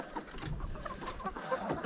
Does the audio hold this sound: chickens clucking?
yes